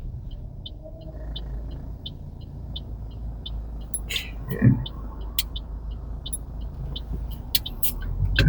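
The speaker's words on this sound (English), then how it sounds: "And there's some cars coming." Cars on a lane in Honolulu, Oahu, heard from inside a rideshare vehicle as a steady low road rumble with a louder swell of a passing car near the middle; a brief voice speaks.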